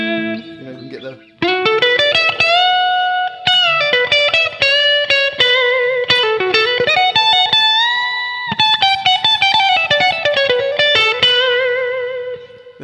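Electric guitar tone through a Line 6 HX Stomp with a big reverb, playing sustained melodic notes and chords that ring out continuously and loudly over a long wash of trailing echo.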